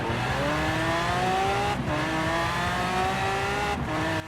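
Hummer H1 engine in Forza Horizon 4 revs steadily in gear with two brief upshift dips, a loud, droning, continuous exhaust note with no talk.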